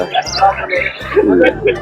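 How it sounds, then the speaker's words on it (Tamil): Pigeons, lovebirds and guinea fowl call at a Friday bird market in Saudi Arabia, with bright overlapping chirps and squawks close by while someone talks over them. "புறாவிலே அவ்வளோ டிஃப்ரெண்ட் டைப்ஸ் இருக்குது. அவ்வளோ லவ் பேர்ட்ஸு, கின்னிக்கோழி"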